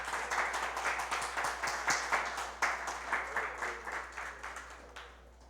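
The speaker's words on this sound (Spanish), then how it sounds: "se perdieron otra oportunidad de dar un aplauso al Señor." A church congregation applauds together, a steady, fairly distant wash of many hands clapping in rhythm that fades slightly toward the end.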